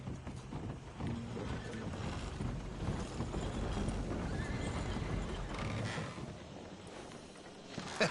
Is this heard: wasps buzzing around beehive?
no